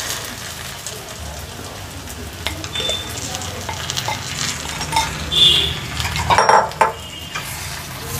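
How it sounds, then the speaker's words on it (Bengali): Fish heads drop into hot oil in a pan for a Bengali muri ghonto with Gobindobhog rice. A loud, rain-like sizzle runs throughout, with clattering utensil knocks and stirring scrapes partway through. "আমি এবার মাছের মুড়োগুলো এর মধ্যে সব দিয়ে দেবো।"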